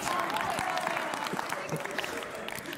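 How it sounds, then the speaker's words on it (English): Congregation at a contemporary worship service clapping, a steady round of applause with talk mixed in over it. "I was not expecting a round of applause."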